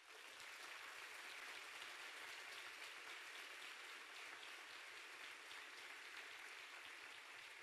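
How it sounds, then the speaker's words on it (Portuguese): A church congregation applauds together, a dense and even patter of many hands that carries on unbroken. The sound is faint and distant, with no voices over it. "Dê um aplauso ao Senhor."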